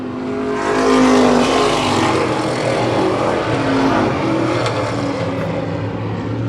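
Race cars battle for second with four laps left on an oval track, one car sliding sideways through turn 1; loud, continuous engine roar that swells and holds steady throughout, with no voices.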